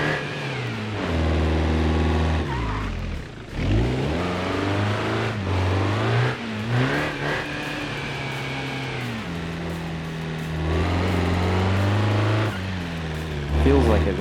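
A stage 2 turbo car engine in the BeamNG driving game revs up and down repeatedly through gears, a continuous mid-pitched drone with rising sweeps, steady and fairly loud beneath a voice talking.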